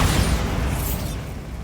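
A Bombarda explosion spell goes off in Hogwarts Legacy, a loud broad booming blast that rumbles and fades over a second or two.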